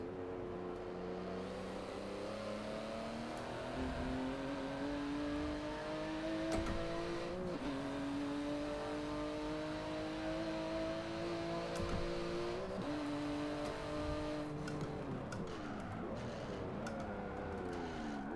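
Racing car engine in Forza Motorsport 7, revving loud and close with repeated rising pitch sweeps broken by several sharp gear shifts, running continuously with no talk.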